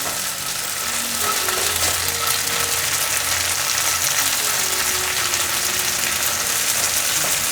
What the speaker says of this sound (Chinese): 让它稍微煎一下。